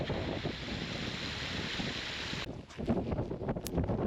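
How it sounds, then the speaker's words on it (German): Heavy downpour and a waterfall stream pour into a loch on the Isle of Skye, a loud, steady broadband rush with wind buffeting the microphone, the texture shifting abruptly partway through. "Es gießt immer noch wie aus Eimern"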